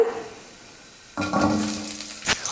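Small shallots drop into hot oil with fennel, cloves, cinnamon and cardamom, bursting into a loud close sizzle that continues with a short scrape or clatter near the end.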